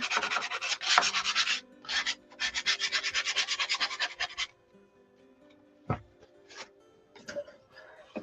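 An old gift card scrapes chalk paste off a stencil in quick, rhythmic rasping strokes, loud and close for about four seconds, followed by a few faint scratches and taps.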